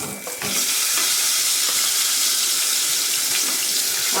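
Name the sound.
onions added to hot oil, frying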